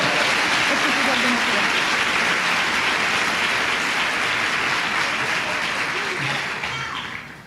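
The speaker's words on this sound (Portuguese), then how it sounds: "O dia aplaude Jesus com força." Church congregation applauds loudly at a Portuguese-language sermon, a dense sustained roar of clapping that fades slightly toward the end.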